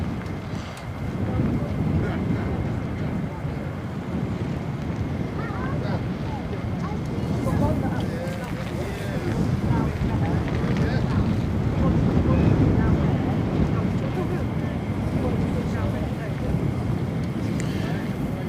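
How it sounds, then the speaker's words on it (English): Wind buffeting an outdoor camera at RAF Lakenheath, a steady low roar of gusty rumble that swells and eases for the whole stretch, with people talking faintly beneath it. "Wind's blowing the camera around on its own."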